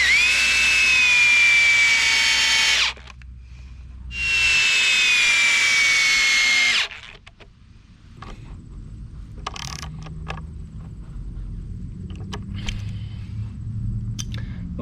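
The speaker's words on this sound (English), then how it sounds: "I'm just gonna ratchet it in with the ratchet drive" A heavy-duty drill drives screws with a ratchet drive into a DIY kayak storage rack: two loud sustained whirring bursts of a few seconds each, then quieter clicking and handling noises.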